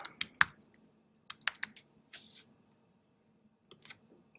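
A password is typed on a computer keyboard in short bursts of crisp, close key clicks separated by brief pauses, quiet overall with no talk.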